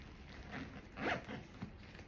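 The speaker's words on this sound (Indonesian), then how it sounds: "Di bagian tengahnya ini ada resleting." The middle zipper of a canvas bag is pulled open with a faint, close, rasping zip, a brief scratchy run that rises and falls over about two seconds in a quiet room.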